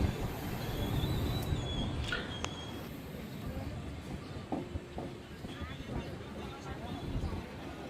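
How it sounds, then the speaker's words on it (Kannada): A passenger train pulling out of Yeshwantpur station in Bangalore, its steady rumble of wheels and carriages running throughout with occasional metallic squeals and clanks, while people chatter in the background. "ಸುಮಾರು 5 ನಿಮಿಷ ಆದ ನಂತರ ನಮ್ಮ ಟ್ರೈನ್ ಯಶವಂತಪುರದಿಂದ ಹೊರಟಿದೆ"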